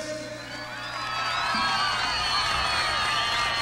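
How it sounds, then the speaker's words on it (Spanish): A crowd at a tropical music variety show cheers and applauds loudly, with whoops and shouts swelling over a continuous roar of voices. "Vámonos con un aplauso fuerte"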